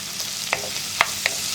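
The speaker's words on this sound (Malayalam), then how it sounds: "ഈ ഇഞ്ചിയുടെയും സവോളയുടെയും എല്ലാം കളർ മാറി വരുന്നത് വരെ ഇളക്കി കൊടുക്കണം" A spoon scrapes and stirs ginger and onions frying in a pan for a Kerala beef curry, three sharp clicks of utensil against metal over a soft, steady sizzle.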